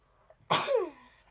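A single close, sharp sneeze bursts out after a faint intake of breath, then trails off into a falling voiced tail.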